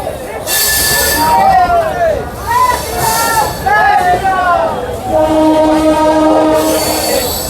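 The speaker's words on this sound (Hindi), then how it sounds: "अपनी ट्रेन डिपार्ट कर चुकी है, राजेंद्र नगर टर्मिनल से पटना जंक्शन की तरफ निकल पड़ी है।" An Amrit Bharat Express train pulling out of Rajendra Nagar Terminal toward Patna Junction, with loud, continuous wheel rumble and repeated high squeals from the wheels, heard close from on board with no voices.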